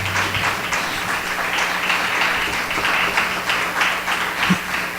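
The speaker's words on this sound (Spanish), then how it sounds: "Denle un aplauso al Señor los que tengan convicción." Congregation applauding during a church gathering, a steady close wash of many hands clapping with a faint low hum underneath and a few louder claps near the end.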